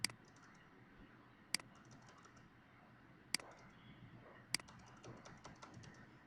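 Quiet typing on a computer keyboard while writing HTML, soft irregular key clicks with four sharper, louder keystrokes spaced through the passage, against a faint room background.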